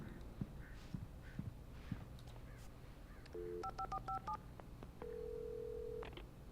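A telephone being dialed in Alan Wake Remastered on PS5: a few faint clicks first, then a quick run of dual-tone keypad beeps and one long steady tone, quiet and close, with no talk over it.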